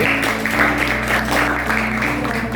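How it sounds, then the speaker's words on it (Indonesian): Students in a classroom applaud, a steady patter of clapping from a group that lasts throughout at moderate level, with a faint hum beneath. "kita beri tepuk tangan dulu yuk"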